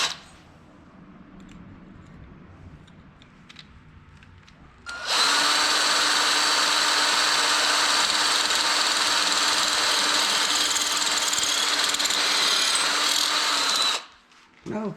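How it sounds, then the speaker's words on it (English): After some quiet handling noise, a power drill drilling steel whines loudly and steadily for about nine seconds, high-pitched and grinding, then cuts off abruptly. "I'll be able to accurately drill it."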